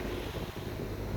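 A sailboat under sail along the Waterford coast, with continuous wind rushing across the microphone and a dense, steady wash of water and hull noise throughout.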